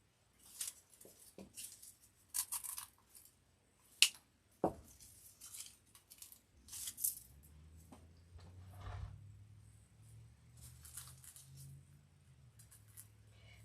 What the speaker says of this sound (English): I'll just take the scissors and cut that part off